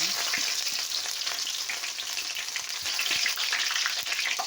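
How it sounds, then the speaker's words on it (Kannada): Chilies, onion and garlic tossed into hot oil with spluttering mustard seeds for vangi bath, giving a loud, continuous crackling sizzle from close by with light stirring throughout. "ಈಗ ಕರ್ ಮೆಣಸಿನಕಾಯಿ ಈರುಳ್ಳಿ ಬೆಳ್ಳುಳ್ಳಿ ಎಲ್ಲ ಒಟ್ಟಿಗೆ ಹಾಕ್ತೀನಿ"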